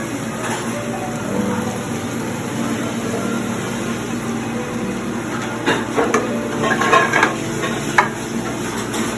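Broccolini and sausage stirred together in a hot pan, a steady sizzle under scraping and clinking of a utensil against the pan that grows busier toward the end.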